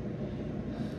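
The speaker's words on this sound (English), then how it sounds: "I got some legs in the air fryer, so that's the noise you hear in the background." Air fryer cooking chicken legs gives a steady low whooshing fan roar with an even broadband hum, constant and fairly close, with no talking over it.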